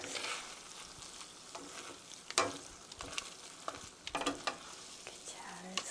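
Spaghetti in tomato sauce seasoned with ground black pepper is stirred in a pan, giving soft scraping and sizzling with irregular utensil scrapes and taps throughout, quiet and close.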